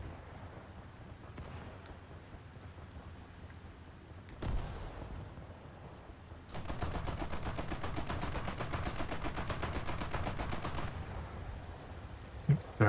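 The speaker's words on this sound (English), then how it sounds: "What is shooting from here?" Gunfire in a naval video game set on a German coastal map: a single loud bang, then a long, rapid, sustained burst of automatic fire at steady volume, with no talking.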